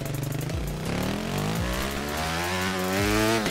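A dirt bike engine in the MX Bikes motocross video game revs in repeated rising sweeps, each climb dropping off sharply before building again, a buzzy mid-level whine heard alone without talk.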